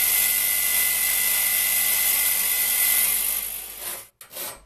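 Hand saw with missing teeth rasping through sheet metal from an old toaster, a steady, loud, bright scraping that runs continuously, then breaks off near the end with a short pause and a final stroke.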